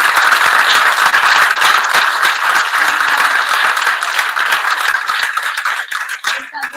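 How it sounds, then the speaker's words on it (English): An awards ceremony audience applauds the coordinators with steady, dense clapping filling the hall at close range, gradually thinning toward the end. "A big clap to them as well"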